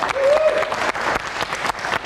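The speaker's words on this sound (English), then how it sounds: "How about a round of applause?" A group at a ballroom dancing lesson gives a short round of applause, brisk overlapping claps with a faint tonal voice briefly underneath, fairly close and steady.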